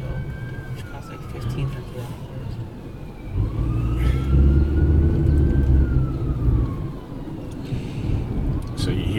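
A police siren wails in the background, rising and falling slowly over rumbling traffic and engine noise, with no clear speech.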